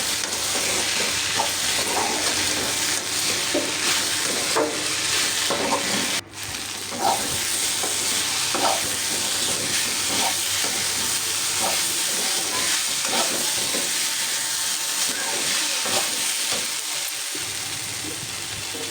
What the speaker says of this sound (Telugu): ఇది బాగా వేగిపోయాక 2 నిమిషాలు బాగా కలబెట్టి